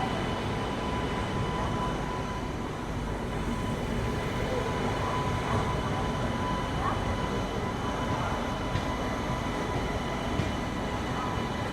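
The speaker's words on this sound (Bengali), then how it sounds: "ট্রেন ছেড়ে দিল কলকাতা স্টেশন থেকে গুয়াহাটির উদ্দেশ্যে" A train departing Kolkata station bound for Guwahati, heard as a steady low rumble of wheels on rails with a constant hum, moderately loud and continuous throughout.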